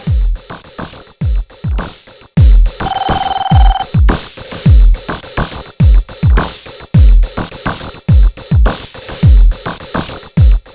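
A telephone rings repeatedly in short bursts over a busy, clattering background, with a brief steady electronic tone partway through.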